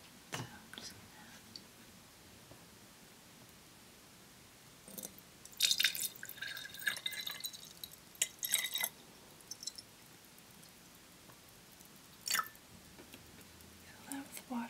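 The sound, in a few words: filling a glass with water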